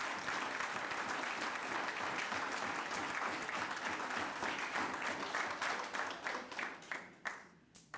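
Audience clapping at a high school fall sports banquet, a dense, steady round of applause that thins toward the end into scattered individual claps.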